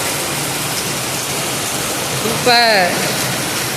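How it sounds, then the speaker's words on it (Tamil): Heavy rain pouring in Salem, a dense, loud, steady hiss of downpour throughout, with a brief excited voice exclaiming over it near the end. "அந்த அளவுக்கு மழை பெய்யுது"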